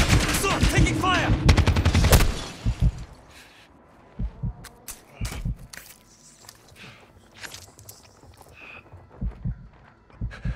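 Gunfire in the Call of Duty video game: a loud dense burst of rapid shots in the first few seconds, followed by sporadic fainter single cracks and pops amid battle noise and in-game radio chatter.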